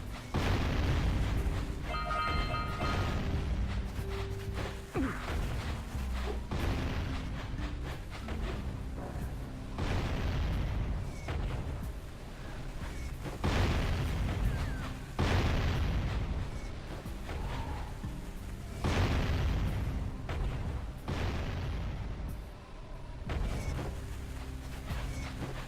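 Cannon fire in the video game Jak and Daxter: The Precursor Legacy lands as a series of heavy explosive booms, spaced several seconds apart over a rumbling backdrop, each blast loud and close.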